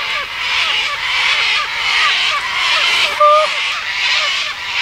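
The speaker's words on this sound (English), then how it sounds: "I'm talking to the birds!" Birds call outdoors beside a highway, a steady roar of traffic filling the background while a few short cawing or honking calls come through, one brief clearer call standing out near the end.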